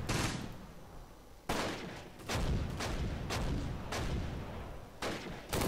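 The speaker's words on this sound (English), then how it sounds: "our mortar combined with our machine gun and our infantry units firing from the hedgerows are doing major damage" Mortar blasts and machine gun fire in the Close Combat: Gateway to Caen video game, a series of loud, booming explosions and rattling bursts repeating every second or so at close range, with no talk.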